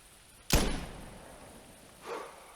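A single sharp .223 rifle shot at a bobcat in theHunter Classic, close and abrupt with a decaying tail, followed by a softer distant thud a moment later.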